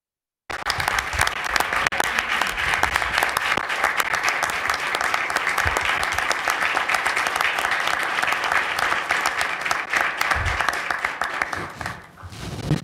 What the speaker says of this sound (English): So I'd like to ask for a round of applause for Jim Gorman, who's going to be taking my